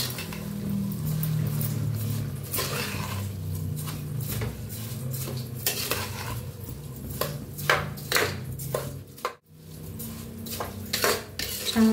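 A spoon stirs spiced masala rice with salt in a metal pot, scraping and clinking repeatedly in an irregular rhythm, close and fairly loud, with a brief pause near the end.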